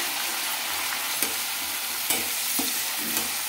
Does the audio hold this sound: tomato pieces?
yes